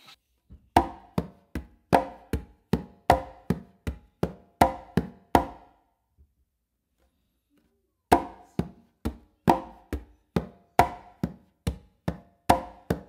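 Congas played in a full clave independence pattern, a steady stream of crisp hand strikes and slaps in two long phrases split by a brief gap, near and loud with no voices.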